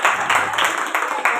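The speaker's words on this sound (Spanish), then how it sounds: "Un aplauso" Applause at an art exhibition opening, a continuous patter of clapping from a small crowd, fairly close and steady over a short stretch, with faint voices mixed in.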